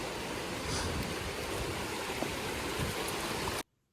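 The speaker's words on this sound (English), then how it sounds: "This trail also had some stream crossings, and here's one of them." Water rushing over rocks at a stream crossing on the South River Falls Trail, a steady, loud, broadband wash that fills the whole clip without change before cutting off abruptly near the end.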